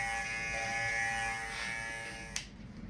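An electric hair clipper hums steadily at close range as it cuts hair, a bright, even buzz that breaks off with a short click near the end.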